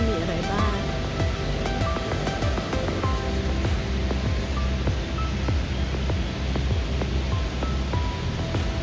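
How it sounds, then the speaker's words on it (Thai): The Krka waterfall in Croatia rushes in a broad, continuous roar of falling water, steady and moderately near, with people talking over it. "ตรงนี้เป็นน้ำตก"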